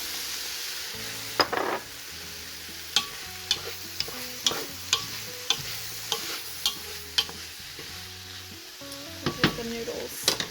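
Vegetables and noodles for pancit sizzle and fry in a pan at a low, steady level, punctuated by a series of sharp clicks and scrapes of a utensil stirring against the pan.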